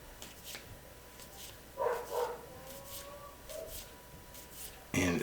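Dogs freaking out in another room while a baby is being entertained, giving a few muffled barks and yips at a distance, with a sudden louder burst near the end over a steady room hiss.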